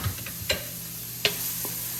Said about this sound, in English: So anytime you're sauteing, do your onions first